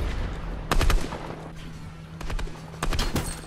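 A few sharp gunshots go off in a video game, arriving in quick clusters over low background noise.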